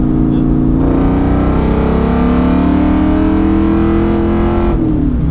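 A loud Ford Mustang GT engine, fitted with a 150-shot of nitrous, revs up and holds a strained, rising pitch for several seconds, then abruptly cuts out and drops away.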